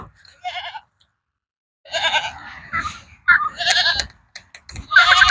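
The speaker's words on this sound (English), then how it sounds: "Yeah, look at the goats." Goats bleat in several short, wavering cries, close by on a farm around feeding time, separated by brief pauses with a few overlapping calls toward the end.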